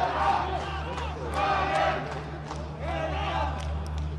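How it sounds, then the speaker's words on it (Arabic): Spectators chanting and cheering in Petrosport stadium during a Zamalek vs Smouha Egyptian league football match, a rising and falling crowd chant in waves over a steady low stadium hum. "هتاف الحاضرين في ملعب بيتروسبورت"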